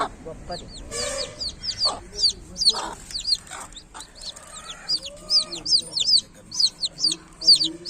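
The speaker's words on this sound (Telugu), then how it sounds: "లావు కోడి" Chickens cluck in repeated short bursts close by, with a hen among her chicks in a village yard; sharp high calls come steadily throughout, with faint background noise.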